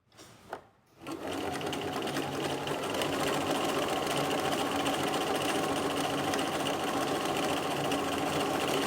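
Sewing machine running a regular-length stitch on fabric with white bobbin thread, starting after a brief pause and then humming steadily and loudly without a break.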